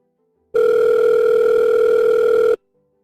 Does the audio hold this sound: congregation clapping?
no